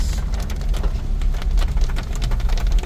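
Rain falls during a camping trip in the hills, a dense rumbling patter with a heavy low-end wash, fairly loud and continuous, with no voices.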